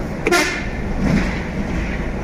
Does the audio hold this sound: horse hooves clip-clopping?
no